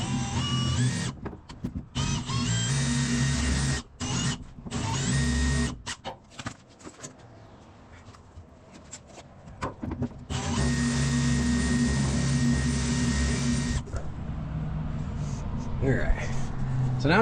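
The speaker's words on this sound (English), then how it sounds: "Now I'm gonna try and drill a hole." A power drill bores a hole in wood on an off-road camper build, loud whirring bursts starting and stopping, then a long steady run, with someone talking in between.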